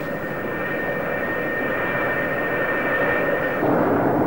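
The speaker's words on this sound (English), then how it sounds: "the deck director signals the pilot to run his engines up to takeoff power" Twin jet engines of an F-4 Phantom II spool up to takeoff power on an aircraft carrier deck, a loud, steady roar with a high whine that swells slightly toward the end.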